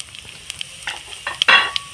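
Sweet fennel seeds dropped into hot oil with peanuts, dried red chilli and coconut for fried fenugreek greens, crackling in short sharp bursts that build to a brief loud sizzle near the end, close and alone.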